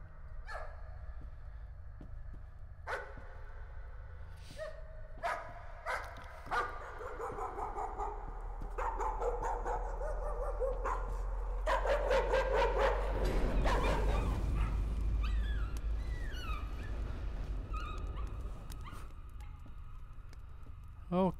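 Repeated barking and yipping from a dog in the Layers of Fear horror game, in irregular bursts over a swelling low drone that builds and then fades, with a few whimpering tones near the end.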